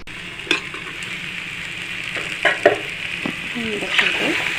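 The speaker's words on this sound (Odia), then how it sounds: "ଭଜା ଚିଙ୍ଗୁଡ଼ି ପକେଇ ଦେଉଛି। ଗୋଳା ଗୋଳି କରିଦେବା।" Fried prawns stirred into a potato-prawn curry in a pan, with a steady sizzle of frying underneath and several scraping stir strokes and spoon knocks against the pan.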